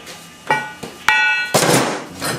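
A few sharp metallic strikes ring out as a hammer hits a chisel while making car trunk lip patches, spaced irregularly with some clatter and handling noise between them.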